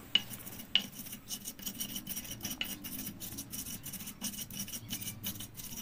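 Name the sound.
pounding spice paste with a mortar and pestle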